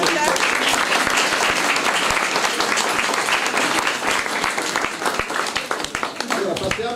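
Audience applause at an art competition awards ceremony, dense and sustained clapping from a crowd with voices mixed in, staying loud throughout and thinning slightly near the end.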